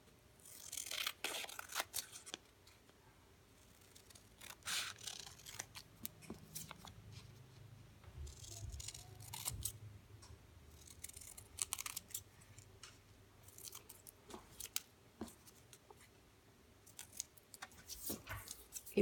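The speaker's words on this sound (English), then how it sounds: "And then so you can cut those out then." Scissors snip out paper shapes for a preschool Valentine's Day craft, giving faint, close, scattered cuts and paper rustles in a quiet room with no talk.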